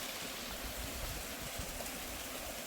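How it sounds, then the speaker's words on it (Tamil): Water pouring down a stream near a waterfall in Seychelles, a constant broadband rush that stays even and steady, with no voices. "தண்ணி இதில் ஊற்றுறது தான் சத்தம் கேட்டுட்டு."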